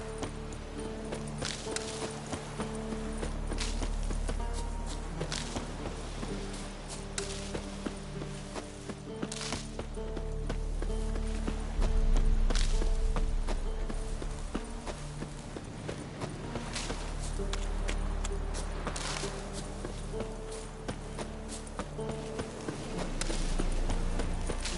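Roach the horse gallops in Witcher 3, a steady rhythmic clip-clop of hooves close by, with music playing underneath and no voices.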